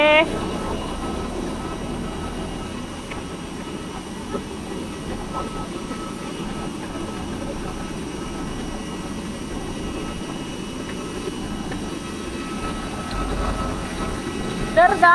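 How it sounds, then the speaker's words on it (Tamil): An AirAsia passenger airplane at Manila airport gives off a continuous engine roar heard from nearby, with people's voices over the hum. "இதான் நம்ம இன்னைக்கு போற ஃப்ளைட்டு."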